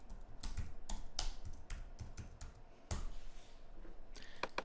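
Typing on a computer keyboard, with irregular bursts of sharp key clicks and a few pauses, close and clear with no talking.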